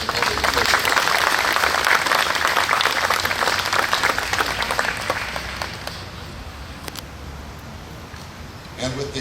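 Crowd applause for county commissioners at an outdoor courthouse marker celebration, loud full clapping that gradually fades to scattered claps and murmuring, with a few sharp claps returning at the end.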